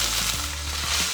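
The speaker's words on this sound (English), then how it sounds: "Let's go ahead and melt 2 tablespoons of butter in the pan." Two tablespoons of butter melting in a hot pan after beef has been seared, giving a steady close sizzle and frying hiss with a few soft pops, no talking.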